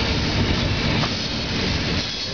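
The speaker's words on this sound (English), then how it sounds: "First train of the day." The day's first train rumbles past close by in Mukilteo, Washington, a loud, steady roar of rolling wagons filling the whole clip with no voices.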